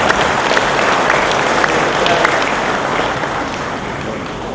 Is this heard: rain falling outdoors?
no